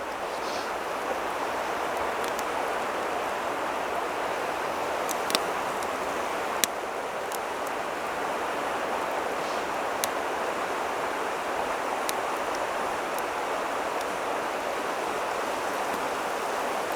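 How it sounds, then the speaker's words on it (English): Water boiling off in a pan, a steady close hiss of bubbling with scattered small pops and ticks throughout, no voices. "We got her boiling off that extra water."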